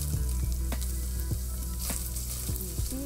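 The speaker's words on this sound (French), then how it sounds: "Dans la même poêle, faire fondre le beurre. Faire suer les oignons." Onions sweating in melted butter in a frying pan, a steady close sizzle and crackle running throughout with occasional stirring scrapes, no voices present.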